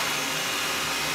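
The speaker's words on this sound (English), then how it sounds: "this robot will clean the perimeter area first and move on towards the middle" A Xiaomi robot vacuum cleaner runs with a steady, broadband motor whir and airflow hiss, even and unbroken throughout.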